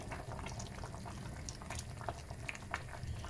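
Farm kebab stew bubbles steadily in a pot on the stove, a soft, continuous close simmer with small popping bubbles and no talking.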